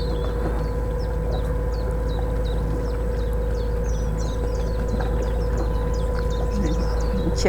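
A chiffchaff sings a repeated two-note chirping song over a steady boat engine drone at Wicken Fen, the notes coming in quick even sequences.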